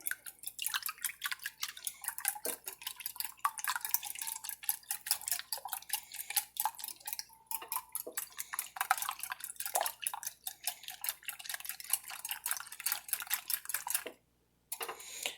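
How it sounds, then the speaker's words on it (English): A quiche filling is whisked in a bowl, making rapid, steady clinking and scraping strokes close by for about fourteen seconds before a brief pause near the end. "Just whisk that up a little bit."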